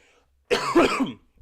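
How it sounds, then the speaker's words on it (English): A single harsh cough burst, close and fairly loud, lasting under a second, after a brief quiet moment. "Again, excuse the cough."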